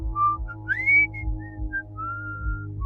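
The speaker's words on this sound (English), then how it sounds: "At exactly 3:03, we heard the whistling." Someone whistles a short, wandering tune of several clear, sliding notes over a low background hum.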